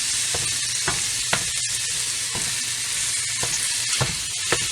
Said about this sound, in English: So you can hear this frying up.